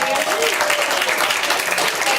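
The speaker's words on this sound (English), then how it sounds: "can we give her a round of applause?" An audience claps in sustained, dense applause, loud and close, with some voices mixed in with the clapping.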